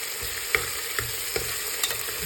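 Chopped onions frying and being stirred in a pan while cooking vegetable rice bath: a steady sizzle runs throughout, broken by a few soft scraping knocks of the spoon against the pan.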